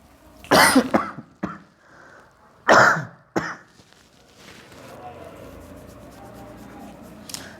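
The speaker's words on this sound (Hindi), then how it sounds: "खांसी परेशान कर दिया है।" A person coughs several times in harsh, loud bursts close to the microphone, then quieter shuffling and faint room noise follow.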